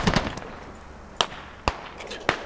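Gunfire in a military squad video game: three sharp, isolated shot cracks spaced about half a second apart, moderately distant, with a brief burst of noise at the start and no talk over them.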